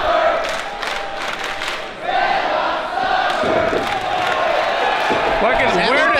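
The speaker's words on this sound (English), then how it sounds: "Hear the crowd. They want the tag." At an indie wrestling tag team title match, a crowd roars and chants loudly, urging on a tag, while a commentator talks over the noise and whistles and yells cut through.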